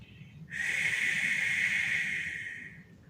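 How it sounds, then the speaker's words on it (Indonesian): A long, steady breath pushed out through the mouth during an asthma breathing exercise, a close airy hiss lasting about two seconds after a quiet start. "Lakukan seperti yang tadi, keluarkan dari mulut."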